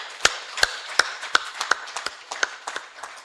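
Sparse, separate hand claps at a media fair closing ceremony in Dakar, about ten sharp close claps spread unevenly over a few seconds rather than a full audience ovation.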